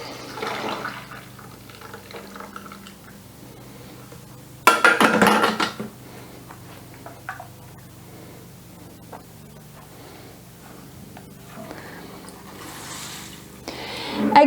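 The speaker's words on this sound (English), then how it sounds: "So I'm gonna strain it through this nut milk bag again." Brown rice milk strained through a nut milk bag, with soft liquid trickling and faint handling noises, a brief loud splash and clatter of pouring near the start, then quieter dripping and another pour at the end.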